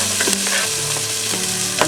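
Onions sizzle loudly in a pan, cooked before rice, a dense continuous hiss close up with a few soft knocks of stirring scattered through it.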